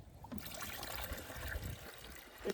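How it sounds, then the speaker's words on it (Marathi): Pesticide spray mixture trickles and splashes faintly into a sprayer pump tank on a soybean farm, a soft continuous pour lasting a couple of seconds. "ह्याचं 10 फवाऱ्याचं मग पंपात भरायलेच आता"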